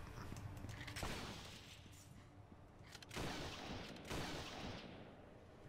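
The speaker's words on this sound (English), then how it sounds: "That sounds like the sniper rifle from Halo." Rifle shots in the action RPG Torchlight II, several sharp broadband cracks at irregular intervals, fairly loud over a busy game soundscape with no talking.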